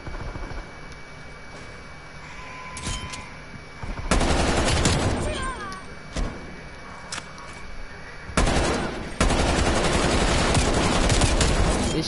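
Rapid bursts of low-recoil Krig rifle fire in a first-person shooter, loud broadband crackles in several sustained strings with short gaps, near and dominant over a faint game backdrop.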